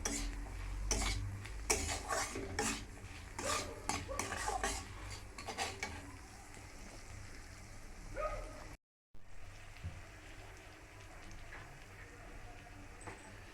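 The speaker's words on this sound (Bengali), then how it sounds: "নুন দিয়ে ভালো করে নাড়াচাড়া করে নেবো" Salt being stirred into egg chowmein in a pan: clattering scrapes and utensil knocks in the first half, then quieter faint stirring with a brief dropout, close and moderately soft.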